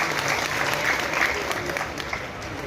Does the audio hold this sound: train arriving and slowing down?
no